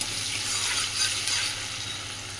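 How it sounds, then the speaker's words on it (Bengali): Chopped onions frying in hot ghee and oil for chicken biryani, a steady close sizzle and crackle that runs unbroken throughout with no voices. "এবার এখানে আমি পেঁয়াজ কুচিটা দিয়ে দিলাম, দিয়ে পেঁয়াজটা এবার খুব ভালোভাবে আমি এবার ভেজে নেব"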